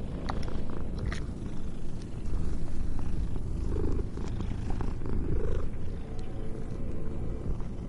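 A cat in the video game Mortal Shell purrs loudly and close, a continuous rumbling purr that swells in slow waves, with a few soft chirps.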